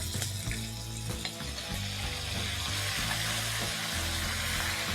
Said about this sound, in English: I'm going to fry this mutton nice and golden.